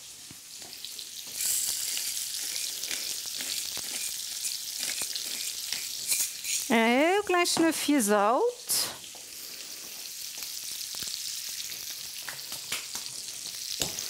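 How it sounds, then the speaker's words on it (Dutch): Steady sizzling of shrimp frying in a hot pan for paella, crackling throughout, with a person speaking briefly in Dutch over it midway. "Kijk eens even hoe mooi die garnaaltjes aan het bakken zijn."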